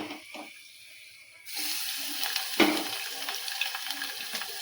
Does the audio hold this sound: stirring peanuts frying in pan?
yes